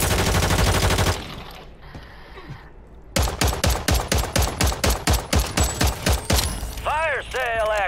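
Rapid bursts of gunfire from a video game firefight rooftop battle, a dense run of sharp shots after a quiet stretch, loud and close, with game voice lines and a player talking around them.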